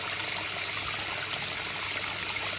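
Water streams steadily into a fish tank to rinse its sand, a continuous even rush and trickle with no voices over it.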